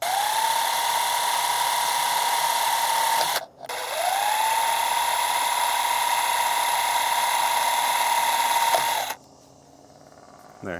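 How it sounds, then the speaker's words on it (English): A power drill whines steadily while boring pilot holes through the metal A-pillar of a 4th-generation Toyota 4Runner for a Dobinson snorkel install, running in two long, even bursts separated by a brief pause, then stopping. "And I'm just gonna drill 3 pilot holes"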